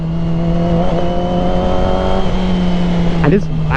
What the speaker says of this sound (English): For some reason I just wanted to ride the R6, and now here I am riding the R6.